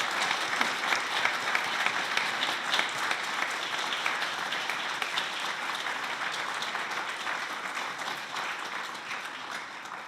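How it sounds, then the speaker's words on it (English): A congregation at a Unitarian Universalist service claps for the bridging class, continuous dense applause at moderate distance that slowly eases toward the end, with no talking over it. "let's give our Bridging class of 22 a round of applause"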